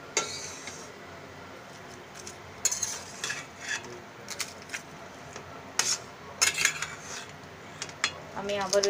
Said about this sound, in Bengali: আমি আবারও এটা নেড়ে নেড়ে দিচ্ছি।